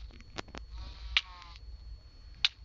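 Sheep bleating in Minecraft, two short clear bleats about a second apart, close and moderately loud over quiet game ambience with faint clicks.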